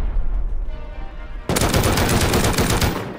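AK rifle fire in the Rust video game: after a quieter start, a loud sustained automatic burst of closely spaced shots fills the rest of the clip with no voices.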